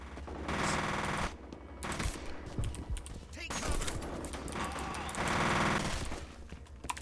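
Gunfire in the horror shooter game F.E.A.R., with rapid automatic bursts that come in two long stretches, crackling and fairly faint, mixed with game effects and brief talk.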